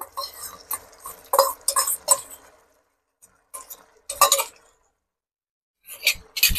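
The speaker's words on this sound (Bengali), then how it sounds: "এবার এটাকে ভালো করে একটু মিশিয়ে নেবো আমি।" A spoon stirring and clinking against a glass bowl while mixing tomato, red chili and soy sauces together, bursts of scraping and clinks separated by short pauses, close and without talk.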